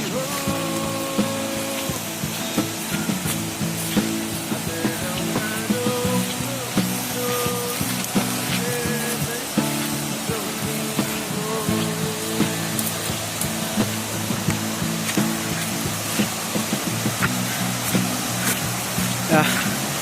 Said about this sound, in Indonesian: Cuaca tidak mendukung karena gerimis datang.